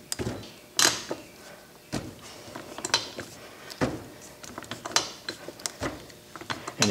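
A Clipper No. 3 belt lacer ratchet mechanism being pressed down on belt lacing, giving a series of sharp metallic clicks and clanks at irregular intervals, close and fairly loud.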